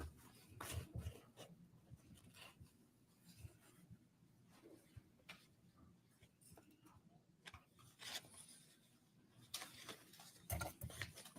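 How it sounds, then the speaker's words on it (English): Paper shuffling in a courtroom during a sentencing hearing, quiet soft rustling and rubbing that comes and goes across the clip, with sharper bursts near the start and end, faint and without speech. "Like shuffling papers."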